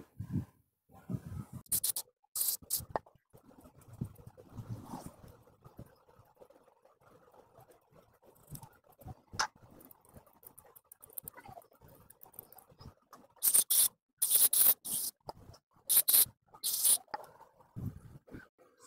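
WD-40 is sprayed onto a dirty oxygen sensor from a Yamaha FZ version 3 BS6 motorcycle, giving sharp short hissing bursts in quick clusters near the start and again toward the end, with quiet handling sounds between.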